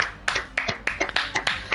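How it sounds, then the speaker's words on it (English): Short burst of hand clapping for a driver of the day in a racing league broadcast, a few sharp irregular claps close by over about two seconds. "Round of applause, yes."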